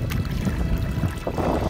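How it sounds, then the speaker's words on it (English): Wind gusts across open water while people magnet fish from a boat, a loud, close, rumbling buffet against the microphone with faint splashing beneath. "The wind's changed directions on us."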